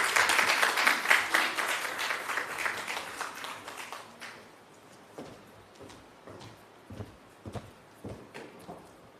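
Audience applause for conference presenters at a national health research conference, loud dense clapping that fades after a few seconds into scattered, sparse claps.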